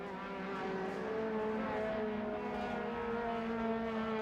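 A saloon race car circles the circuit in amongst traffic, its engine droning steadily with rising and falling harmonic pitch as it heads into a turn, no voices over it.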